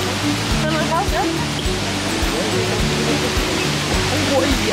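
Standing wave of the Eisbach river in Munich's English Garden, a steady loud rush of churning water filling the whole clip, with low rhythmic thumps from the surrounding setting underneath.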